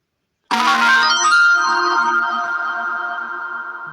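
A phone notification chime rings out once, loud and close, with bright tonal ringing that fades slowly over a few seconds in an otherwise quiet setting.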